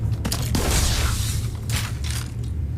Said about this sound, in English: we'll click on this and we'll show you what happens with the food launcher